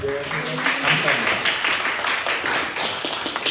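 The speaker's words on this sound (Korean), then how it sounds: "박수로 우리 찬양할까요" Clapping from a church youth congregation honoring a teacher, a dense round of applause rising and holding steady, with voices and murmuring mixed in.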